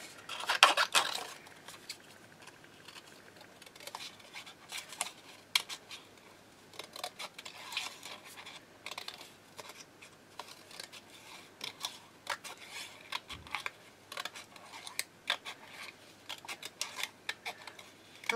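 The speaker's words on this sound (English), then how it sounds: "I'm just going to cut around these as quickly as I can." Scissors fussy-cut around stamped paper flowers for a handmade card, making quick, close, crisp snips in an uneven run with small pauses and paper rustles.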